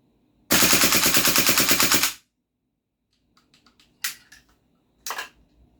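A GHK AKMN airsoft rifle, rebuilt with short-stroke two-stage recoil, fires a loud rapid burst of BBs for under two seconds, followed by quieter mechanical clicks and two short sharp bursts.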